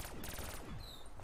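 Light machine gun fire in the Black Ops 3 Zombies video game, with a dense, rapid burst of shots that runs through the whole short moment at a steady, moderate level, with no talking.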